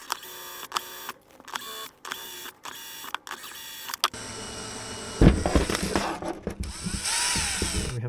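A small drill bores a 1/16 inch hole slowly and carefully, first in short intermittent bursts of whirring, then in a steadier, rougher grinding run, with no talk.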